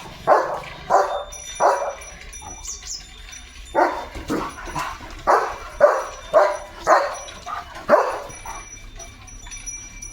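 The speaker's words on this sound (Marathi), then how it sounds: "काय गरज आहे का एवढं भुंकायची" A German Shepherd barks repeatedly in short bursts, roughly one bark per second, close by and fairly loud, with a few whimpery yips mixed in.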